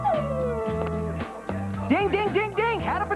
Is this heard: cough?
no